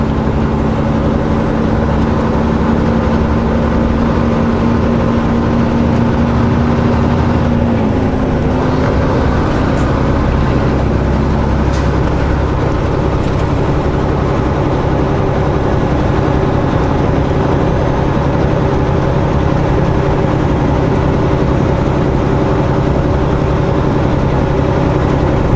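A truck rolls along a highway toward Everett, Washington, with a steady, loud low engine drone and road rumble that continue unbroken throughout, with no talking.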